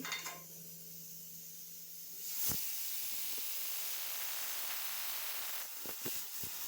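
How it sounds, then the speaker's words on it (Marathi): Marinated chicken with onion and tomato drops into hot oil and fries, a sudden steady hiss and sizzle that carries on evenly at moderate level, with a few soft knocks from the pan. "आता मी हे तेलामध्ये टाकते।"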